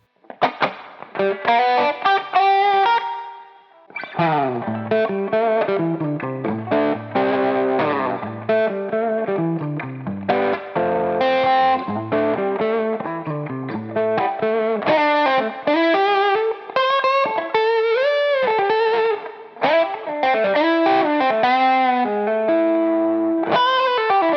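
Electric guitar on a Gibson Switchmaster's middle pickup, with distortion and chorus effects, plays a flowing run of chords and single-note lines, loud and steady throughout, with no voices.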